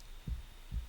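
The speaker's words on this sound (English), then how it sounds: "doesn't the sound of my heartbeat excite you?" Heartbeat sound effect from the visual novel game Tsukihime: A Piece of Blue Glass Moon, two deep, soft low thumps spaced about half a second apart, heard alone over a faint hum.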